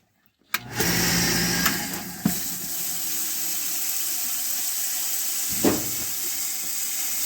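A rural home water system pump starts up abruptly and runs with a steady broadband hiss of water spraying from a split hose. A few brief knocks and clunks sound close by.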